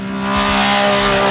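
A 2008 Triumph Daytona 675 three-cylinder supersport motorcycle engine revs up hard and close, a loud, raspy high-pitched drone rising in pitch and holding steady.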